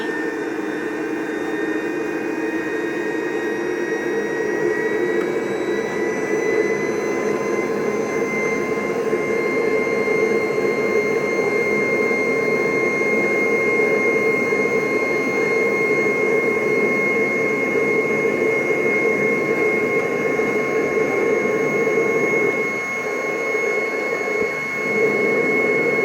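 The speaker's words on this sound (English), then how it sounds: "Now, if I come over here and start vacuuming" A Rainbow vacuum cleaner running and vacuuming: a steady, loud whining motor drone with a constant airy hiss that holds for the whole stretch, dipping briefly near the end.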